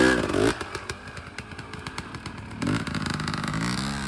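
A Yamaha Tenere 700 motorcycle on a dirt trail ride, its engine rumbling with uneven throttle bursts and rattling clatter, then swelling into a louder rev near the end, close and continuous.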